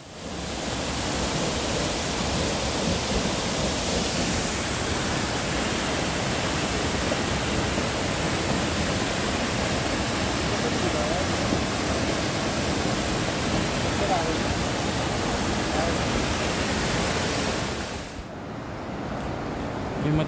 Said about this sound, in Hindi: स्थानीय भाषा में इस झरने को भीमसी गदेरा कहा जाता है।